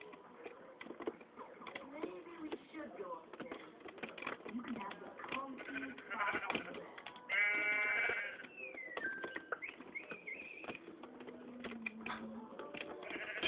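Sheep bleating in the Minecraft video game, several short synthetic bleats heard amid clicky game sounds and a person talking throughout.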